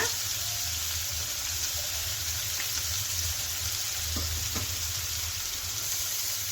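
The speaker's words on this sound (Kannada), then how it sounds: "ನಾವು ತೆಗೆದಿಟ್ಕೊಂಡಿದ್ದೀವಲ್ಲ ಈರುಳ್ಳಿನ, ಕರ್ಬೇವಿನ ಸೊಪ್ಪನ್ನು ಸೇರಿಸ್ಕೊಳ್ಳೋಣ" Onions and curry leaves frying in hot oil with asafoetida, a steady broadband sizzle running throughout, with a low background hum and a couple of faint clicks near the end.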